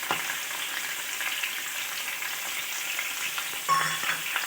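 Ginger garlic paste frying in a pan for a Gulivindala fish curry, with a steady close sizzle and a brief louder burst of stirring near the end.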